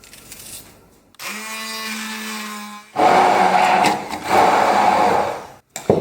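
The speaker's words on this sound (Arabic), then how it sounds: "نبدا نطحن هنايا البصل مع الكرافس" A food processor grinds onion and celery for oven-baked kebab: a steady motor whine starts first, then turns into a loud, rough churning as the vegetables are chopped, ending in a sudden stop and restart.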